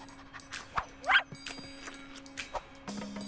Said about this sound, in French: Par un chien affamé.